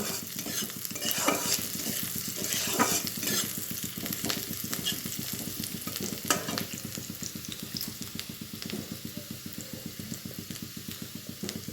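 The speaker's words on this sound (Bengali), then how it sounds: "পেঁয়াজগুলি একটু বাদামি কালার হয়ে গেলে আমি টমেটোগুলি দিয়ে দেব" Vegetables and onions sizzle in a frying pan for a mixed-vegetable and small-fish chorchori, with tomatoes going in, while steady rhythmic stirring scrapes through the close, continuous frying.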